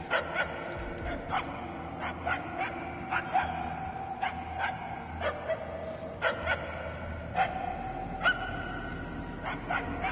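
A dog in the Guardians of the Galaxy video game yips and barks over and over, sharp and fairly close, spaced irregularly across the stretch above a faint background hum.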